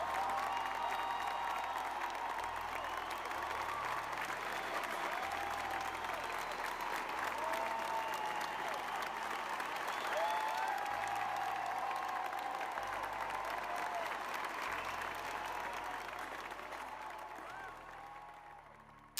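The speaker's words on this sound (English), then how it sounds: "So round of applause to you guys" A live-stream audience applauds in a long, steady stretch of clapping and light cheering, faint and somewhat distant, over a low pulsing background tone, before fading toward the end.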